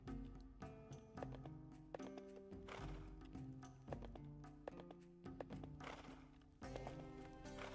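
Rhythmic clip-clop of horse hooves in the game Pantheon: Rise of the Fallen over a steady backdrop of game music, with a brief whinny-like sound; no talking.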